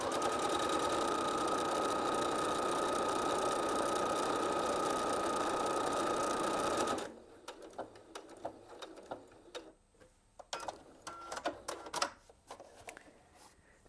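A Viking Onyx 30 sewing machine runs a stitch combination with a steady, even mechanical whir for several seconds. It then stops, leaving quieter scattered clicks and handling noises nearby.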